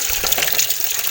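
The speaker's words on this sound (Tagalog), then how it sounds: "Running water." Tap water runs loudly and close by as fish is washed under the faucet, a brief steady gush.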